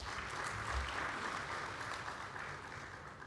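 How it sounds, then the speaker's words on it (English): An audience at an aviation week conference applauding a speaker, steady dense clapping from a large room, moderately distant and even throughout. "Another warm round of applause for him,"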